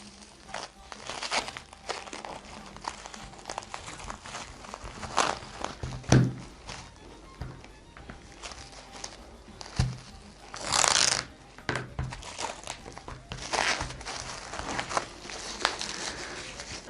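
Soft crinkling and rustling of plastic wrap being wound and pressed by hand around grafting scions, close and quiet, with intermittent louder crackles.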